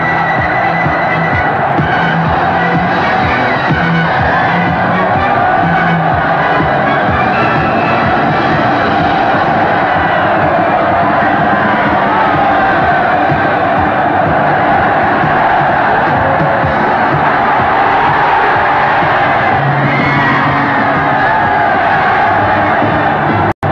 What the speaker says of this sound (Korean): 와, 와, 지축을 박차는 함성